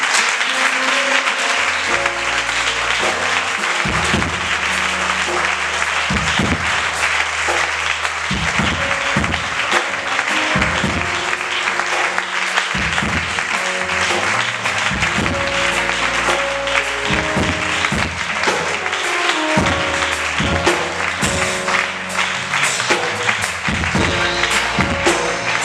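A church congregation at a prophet's prosperity service applauds, with loud, sustained clapping that fills the hall without a break, a dense wash of many hands close and far.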